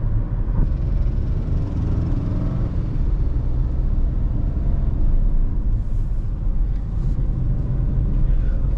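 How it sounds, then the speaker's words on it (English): A 2025 Kia Sonet GTX Plus with a turbocharged engine accelerates in fifth gear on a hilly ghat road, a steady loud low engine drone with road rumble building continuously. "I'm just gonna accelerate a bit, and the mid-range is really good."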